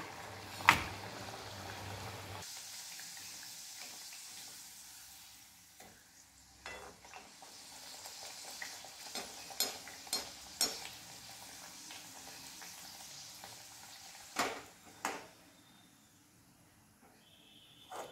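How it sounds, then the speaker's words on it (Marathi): Puris frying in hot oil in a kadhai give a soft, faint sizzle with scattered light pops and crackles, and a few sharper clicks and scrapes of a utensil stand out. "हे मी आता पुरे तळून घेते."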